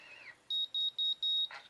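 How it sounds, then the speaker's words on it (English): An automatic hair curler gives four quick electronic beeps in a row, high and clean, signalling to remove the hair, the last held a little longer, with faint soft sounds before and after. "That beep there, as you just heard it, that is the get the hair out of the roller beep"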